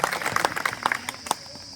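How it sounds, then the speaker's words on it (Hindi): A small audience at a Hindi news gathering claps in scattered, uneven bursts to welcome a guest speaker, with a voice talking over the claps. "उनके लिए एक बार करतल ध्वनि से आप लोग जोरदार तालियों से स्वागत करें"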